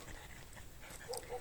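A dog makes small whimpering, panting noises on an evening walk, faint and close amid quiet outdoor background, with no talking.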